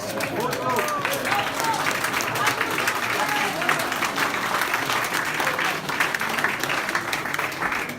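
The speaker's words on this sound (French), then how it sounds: "applaudissements" Sustained applause from a seminar audience at a medal presentation for administrators, a thick continuous wash of clapping held at even loudness throughout, with voices and cheering mixed in.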